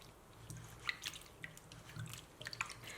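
Kumquats are rubbed clean by hand in a bowl of water after soaking. The sound is quiet and close: soft splashes, drips and wet squishes in an irregular patter.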